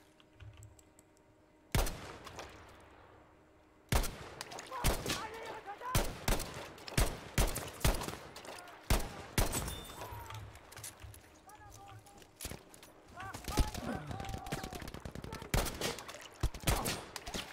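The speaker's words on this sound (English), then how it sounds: "Soldier, the artillery guns are causing real casualties." Video game battle with artillery guns firing: a dense barrage of sharp impacts and bursts in quick succession, with sudden loud blasts, under ongoing game chatter and voices.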